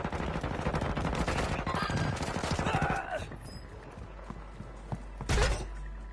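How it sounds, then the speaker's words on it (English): Gunfire in the Warzone 2.0 video game, a rapid crackling burst of shots under busy game noise for about three seconds, then quieter ambience with a single louder blast near the end. "somebody shooting at us"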